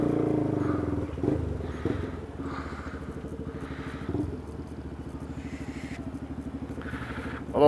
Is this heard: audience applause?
no